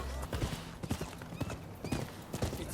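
Hooves clip-clop at a steady trot in the game Rise of the Ronin, close and continuous, with a horse's brief whinny mixed into the rhythmic beats.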